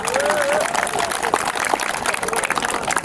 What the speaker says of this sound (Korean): 오늘 처음 참석하는 만큼 환영의 박수 한번 크게 보내주시기 바랍니다.